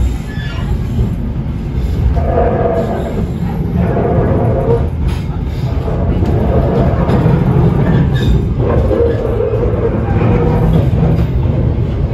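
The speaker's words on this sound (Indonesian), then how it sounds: "Kereta api Progo itu sekarang rangkaiannya udah menggunakan New Generation Stainless Steel ya teman-teman" The KA Progo passenger train, running with New Generation stainless steel carriages, gives off a loud, continuous rumble and rattle that holds steady for the whole stretch.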